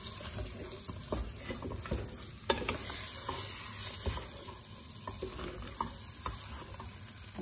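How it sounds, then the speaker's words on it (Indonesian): A date dodol mixture with margarine is stirred in a pan over medium heat, giving continuous scraping and wet sizzling with a light patter. The sound is steady and close, with no talking. "Kita aduk-aduk aja sampai menyampur ya dengan margarin."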